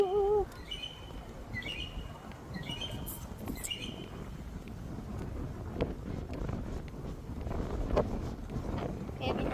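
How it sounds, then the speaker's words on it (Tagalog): Strong wind near a beach buffets the microphone with a constant low rumble and gusty roar. A few bird chirps come through at the start, and a voice can be heard faintly at moments. "So windy"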